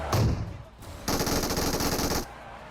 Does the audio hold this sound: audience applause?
no